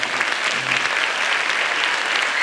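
A concert audience applauds steadily after a Yeşilçam film music concert with piano and conductor, a dense, loud wash of clapping that continues without break.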